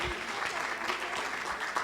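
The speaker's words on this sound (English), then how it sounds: "If you would please give them a round of applause." Audience applause after a presentation at a 2019 JFK conference, steady dense clapping from a crowd filling the whole short stretch at even loudness.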